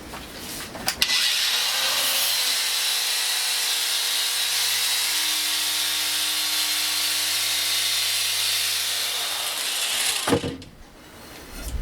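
Granite edge being polished with a 2000 grit pad on a polisher, a steady loud whirring grind with low motor hum running continuously for about nine seconds before stopping.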